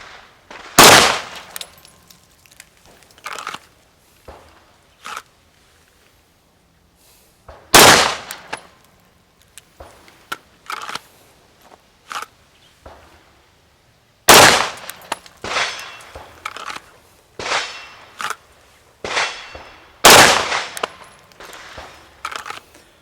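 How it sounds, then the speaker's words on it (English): Pistol shots crack loudly at irregular intervals during dot accuracy drills, about half a dozen sharp reports with lighter clicks and handling noises between them. "So I want to fire the shot, prep the trigger, and then release"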